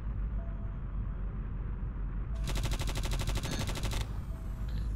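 A minigun fires at a target in a video game, a dense, rapid burst of shots lasting under two seconds over a low background rumble, with no talk.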